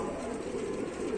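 Domestic pigeons cooing in a loft, a low soft burbling coo that carries on steadily and close for a brief moment.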